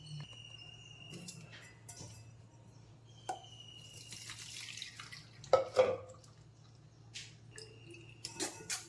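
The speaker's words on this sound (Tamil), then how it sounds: "இது இப்போ வடிகட்டிடலாம்." Blended amla (gooseberry) juice is strained through a sieve in a home kitchen, giving sparse close drips, wet squishes and scraping taps that sharpen into a few louder splashy bursts near the end, with a low steady hum underneath.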